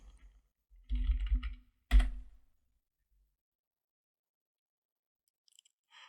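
A sudo password is typed on a computer keyboard in two quick, close bursts of key taps, then silence and a few faint taps near the end, with no talking.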